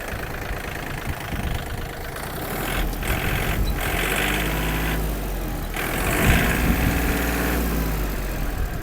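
A Yanmar US-324 long-wheelbase mini tractor's diesel engine idles steadily nearby, a continuous even rumble with mechanical clatter that holds at a constant level throughout, with no talking.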